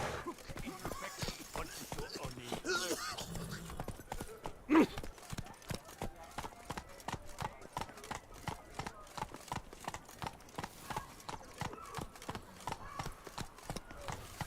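Roach, the horse in The Witcher 3, gallops with steady rhythmic hoof clip-clops throughout, with a single whinny partway through and a voice talking over the hoofbeats.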